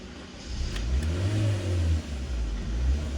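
A Honda Brio engine turns over on its starter while a MAP sensor and vacuum check is under way. A steady, low, churning drone runs for about three seconds with no voices.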